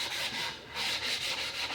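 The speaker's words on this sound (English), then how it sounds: "what remains is doing a little sanding" Hand sanding a tall, skinny wooden soap mold, a close raspy rubbing in steady back-and-forth strokes, alone without voices.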